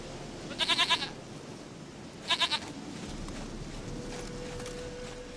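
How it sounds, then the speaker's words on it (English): A goat bleating in The Witcher video game, two bursts of wavering, tremulous bleats a second or so apart, clear and close over quiet ambient background. "Goat of mine, dearest, sweetest goat."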